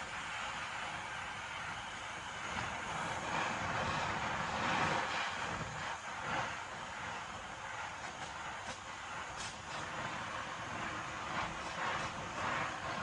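A MAPP gas torch burns with a steady, broad roaring hiss, close and continuous throughout, with slight swells in intensity and no talking.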